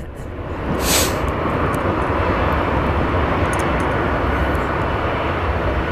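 Airliner spooling its engines up for takeoff at Hartsfield-Jackson in Atlanta during a 2014 winter storm, a loud, steady broadband jet roar that swells in the first second and then holds strong.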